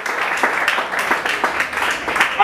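A church congregation at a deliverance service claps together in rhythm while praising, the sharp hand claps repeating at a lively pace, loud and close, over a blended crowd of voices.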